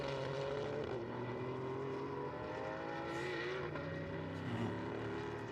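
Porsche GT race cars compete in an endurance race at Paul Ricard, their engines whining and rising in pitch as they pass, a steady moderate roar of several cars.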